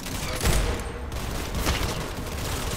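Paintball gun firing in the Roblox game Arsenal, a loud, dense, continuous barrage of rapid shots with no pauses, close and unbroken throughout.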